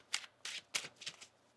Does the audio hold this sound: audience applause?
no